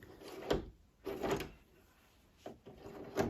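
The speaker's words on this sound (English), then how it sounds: "There is jiggling in the handle" A satin nickel Amazon Basics straight passage door lever is jiggled on a door, giving four short, faint rattling clunks at uneven intervals in a quiet room.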